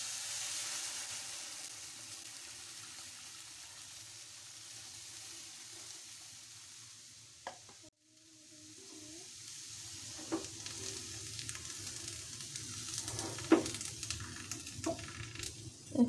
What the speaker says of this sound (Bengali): এখন দুধটা ঢেলে দিচ্ছি।